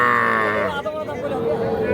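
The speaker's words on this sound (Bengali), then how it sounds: "এরপরে ষাঁড় বাচ্চা দেখাতে চাই।" A young bull calf at a cattle market lets out a short, close, low moo lasting about a second, with faint market chatter behind it.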